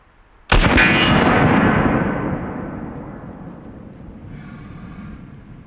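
A single booming shot from a double-barrel 1911 pistol chambered in .45 ACP, fired at a white steel target outdoors. It is sharp and very loud, followed by a long rumbling echo that slowly fades.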